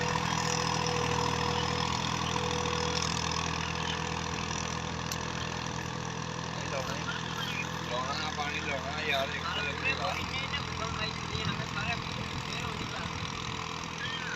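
A 2000-model Massey Ferguson 240 tractor pulls a 9-tine cultivator through a field in Punjab, Pakistan, its diesel engine droning steadily and close, while people talk over it.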